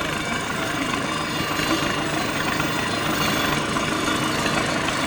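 A tractor engine runs steadily at a low, throbbing idle throughout, loud and close with a constant broadband rumble and no speech over it.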